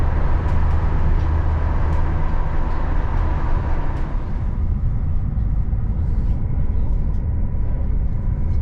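Cabin of an MTRX FLIRT200 train from Gothenburg to Stockholm, a steady rolling rumble with rhythmic track clatter that lightens partway through as the ride continues, with no talk.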